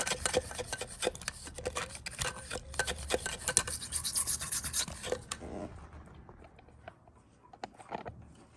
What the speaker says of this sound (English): Got our little brush here. Cleaning out all these ports.